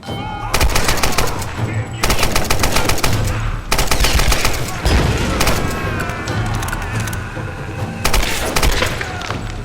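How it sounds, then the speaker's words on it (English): Tomb Raider video game combat: dense bursts of automatic gunfire and heavy explosions, loud and continuous with brief gaps. "Why the fuck is everything exploding?"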